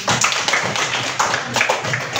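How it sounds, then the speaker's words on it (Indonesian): A group of schoolchildren in a classroom claps together after a group task, a short burst of close, loud, uneven hand claps with slight pulses in the rhythm. "Tepuk tangan dulu untuk kita semua"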